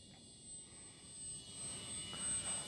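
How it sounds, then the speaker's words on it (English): An XFly GlaStar RC model airplane drones faintly overhead, its motor hum rising and falling gently as it passes, with no talking. "Flies like a sport plane."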